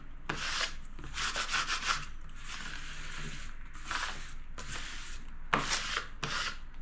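Dry rubbing and scraping strokes press vinyl lettering down from its backing, coming in repeated bursts of steady friction at close range with short pauses between them.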